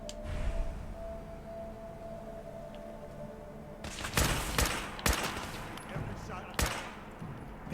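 Gunfire in the video game Fallout 4 against gunners: a few sharp, spaced shots in the latter half over a low game ambience, with someone talking.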